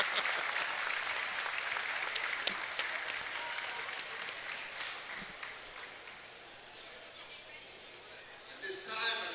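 Crowd applause fills a gym at a District IV boys' basketball championship between Columbia River and Mark Morris, loud and steady clapping throughout, easing slightly toward the end with some voices mixed in.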